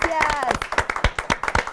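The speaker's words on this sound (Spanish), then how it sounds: "Un aplauso, bienvenidos." An audience at a municipal public event in Chontla, Veracruz, claps briefly in quick taps under a voice speaking over the applause.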